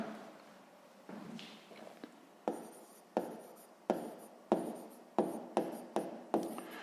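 A pen scratches out numbers in a math notebook in short, close strokes, with a rhythmic series of about a dozen scribbles that each start sharply and fade.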